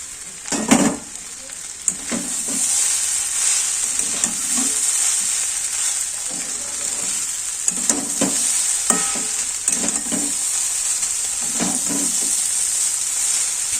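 Chow mein being stirred in a frying pan: a constant sizzling hiss with repeated scraping and knocking strokes of the utensil, close and fairly loud, no talking.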